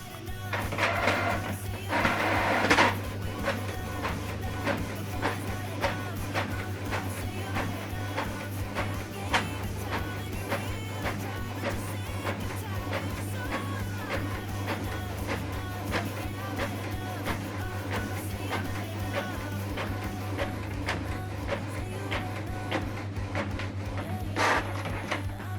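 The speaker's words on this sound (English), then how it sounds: "And now this document is printing." A Canon printer prints a document indoors with a steady low mechanical hum and faint rhythmic feed clicks. It runs continuously at a soft, even level for the whole stretch.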